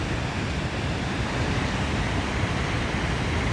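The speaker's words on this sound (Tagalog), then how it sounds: "Yan, ayun yung falls oh." Continuous rushing roar of a small waterfall at a Norwegian campsite, dense and steady, heard close and loud with no talking.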